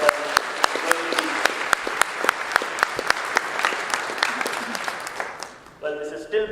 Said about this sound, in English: So a round of applause for these guys, please.